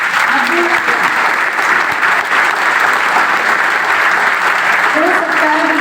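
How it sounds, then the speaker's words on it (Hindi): Audience applause for a successful candidate, sustained close clapping that stays loud and even from start to finish, with faint voices underneath. "आज देखो इसके लिए तालियां बज रही हैं"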